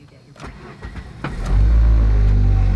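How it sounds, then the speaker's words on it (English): A Ford car engine cranks with a few clicks and sputters, then catches and settles into a steady, loud idle close by. "When the car isn't running, we'll start it up."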